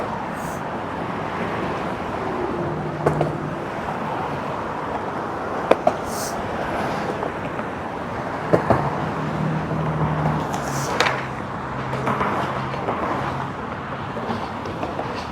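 Steady broadband rumble of road traffic in the distance near the Golden Gate Bridge, with occasional faint clicks and a passing engine hum, no voices.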